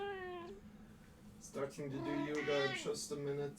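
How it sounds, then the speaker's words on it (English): A hungry house cat meows insistently for food, one drawn-out meow and then a run of louder, rising meows close to the microphone, while a person speaks briefly between them. "my cat is hungry and she's asking for food"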